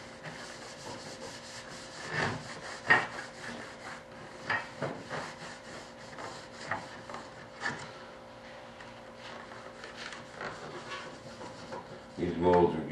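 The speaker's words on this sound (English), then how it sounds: "And you take the wax. You wax it on." Wax is rubbed onto a model kit mold, giving close, irregular scraping and rubbing strokes with occasional knocks and a louder clatter at the end.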